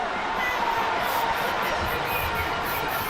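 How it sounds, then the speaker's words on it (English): A large outdoor crowd at a Ghana Independence Day celebration reacts to a physical instructors' freestyle agility display, giving off a dense, continuous wash of noise throughout. "And the response from the crowd is"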